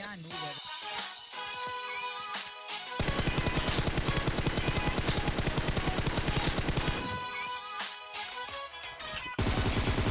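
Gunfire in PUBG Mobile, a prone player shooting: long bursts of rapid automatic fire thunder over layered game sounds, pausing briefly and then starting again loudly near the end.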